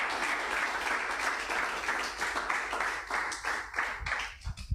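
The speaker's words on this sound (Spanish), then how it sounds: "Fuerte el aplauso al Señor, aleluya." Worshippers in a church clap for the Lord, a fairly close, rhythmic patter of many hands that thins out toward the end, broken by a few low thumps.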